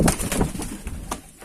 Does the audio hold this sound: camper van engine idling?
no